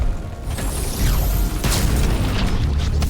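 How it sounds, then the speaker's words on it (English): A boss's blaster in The First Descendant charges with a rising whine, then fires with a heavy booming blast, followed by a loud rumbling, crackling energy tail. "he holds out his blaster and then he charges it a little bit with a charging sound even playing"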